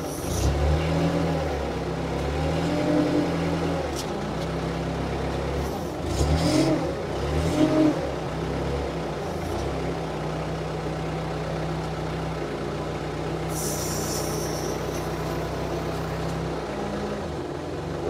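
A Hyster H65XM 6,500 lb diesel forklift drives along, its low engine droning steadily and rising with a few brief revs, close and continuous throughout, with a short high squeal near the end.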